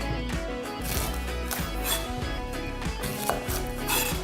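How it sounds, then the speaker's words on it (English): A knife chops the top and end off an onion on a board, a run of close, crisp cutting strokes over a steady tonal background. "I'm going to chop the onion as well. So I'm just going to take the top and the end off."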